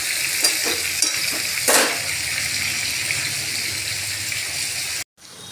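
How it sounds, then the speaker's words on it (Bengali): Potatoes frying in a kadai for spicy aloo dum, a steady sizzle with a few clattering stirs near the start, running close and continuous before cutting off abruptly at the end. "আলুগুলো ভালো করে ভেজে নেব।"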